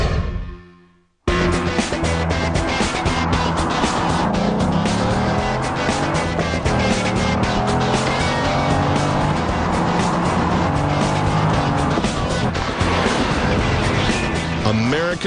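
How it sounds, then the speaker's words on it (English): A Corvette sports car races at full throttle with a loud, sustained engine roar and tire noise after a brief fade-in from quiet, continuous and close for about fourteen seconds. "Wow, that's a Corvette."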